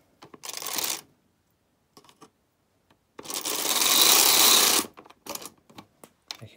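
A knitting machine carriage drawn across a row during short-row shaping of sweater shoulders, giving two sustained rasping, clattering sweeps with short clicks and taps between them, fairly close and with no talk.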